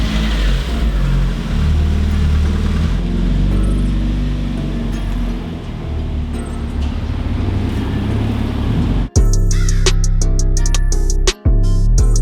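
A car with a fresh paint job and new headlights is heard from inside as it drives, the engine giving a steady loud rumble with road noise. Near the end it cuts to quieter interior sounds with a couple of clicks.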